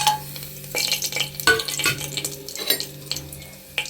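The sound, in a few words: frying cloves and bay leaf in oil in pressure cooker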